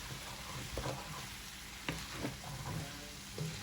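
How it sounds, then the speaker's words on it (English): Chicken curry cooking without oil sizzles faintly in a pan under gentle stirring, with a soft steady crackle and a few light scraping taps spread across a few seconds. "So now I'm going to stir it."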